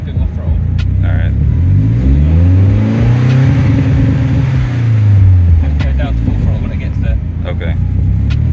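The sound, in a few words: BMW E30 M42 turbo engine revving on dyno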